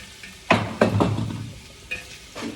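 Meat and onions with turmeric being sautéed in a pan, with a few sharp stirring scrapes and bursts of sizzling that fade between strokes, close and moderately loud.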